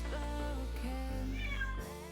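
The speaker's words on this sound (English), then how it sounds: "You see a little stray cat?" A stray cat outside meows in a long, drawn-out wail that rises and falls, close and loud, with no talking.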